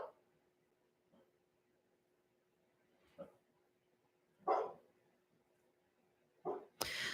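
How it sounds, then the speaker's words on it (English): A dog barks indoors in a few scattered, moderately distant outbursts separated by quiet gaps, with a faint steady hum underneath and a louder burst at the end. "My dog's barking, so the mailman must be here"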